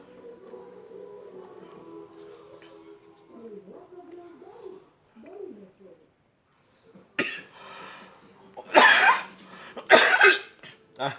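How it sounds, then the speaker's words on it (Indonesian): A person coughs several times in bursts near the end, loud and close, after a quieter stretch with faint bird cooing and murmuring in the background. "Batuk saudaraku."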